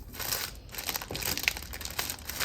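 A plastic shipping bag is folded over and pressed flat to push the air out, with soft continuous crinkling close by at low volume.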